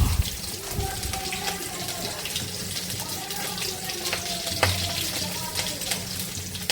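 Chopped onion, garlic and green chilli sizzle in hot oil for a vegetable curry, a busy crackling fry with stirring scrapes and a brief watery splash.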